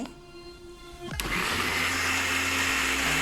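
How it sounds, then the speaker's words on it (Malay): A blender starts with a sharp whine, then roars steadily and loudly as it grinds pandan leaves to a pulp. "daun pandan tadi kita blender sampai dia hancur"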